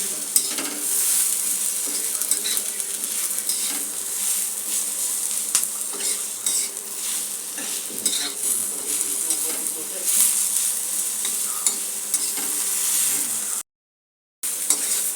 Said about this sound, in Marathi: अर्धा टोमॅटो आणि थोडीशी कोथिंबीर, याला आपल्याला 2 मिनिटं असं परतून घ्यायचं आहे.